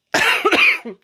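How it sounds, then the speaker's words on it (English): A single human cough, a harsh, breathy burst followed by a shorter second hack, close and loud against silence. "human's got a cough."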